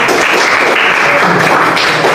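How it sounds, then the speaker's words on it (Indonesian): A classroom group in a teacher-training session claps loudly and densely at close range in a short, sustained burst of applause. "Luar biasa, tepuk tangan semuanya."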